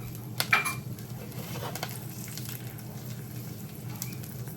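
A faint, steady sizzle of brown butter with lemon zest and red pepper flakes in a pan, with a few light clinks and stirring sounds over it.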